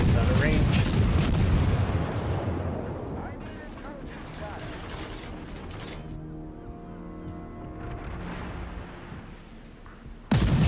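Naval guns firing from a warship in World of Warships, shelling an enemy ship: a loud rumbling salvo boom at the start that fades into a long mechanical hum, with another sharp blast at the end.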